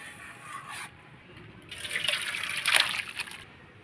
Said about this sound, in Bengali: এখন মাছের ঝোলটাকে গামলায় ঢেলে নেব